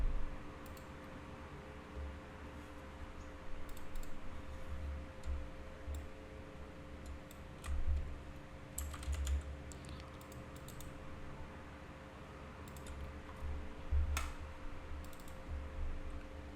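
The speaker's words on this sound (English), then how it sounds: "Now type unlocker tool." Rapid keystrokes on a computer keyboard at a desk, steady close clicking with brief pauses and a faint electronic hum underneath, no voices.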